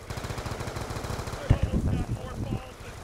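An RPD machine gun fires in rapid, sustained bursts in Black Ops 2 Zombies (Die Rise map), the gunfire loud and continuous with a denser burst midway.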